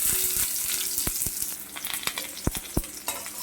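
Onions and mustard seeds sizzle in hot oil in a pan, a close steady hiss broken by sharp pops and crackles; no voices.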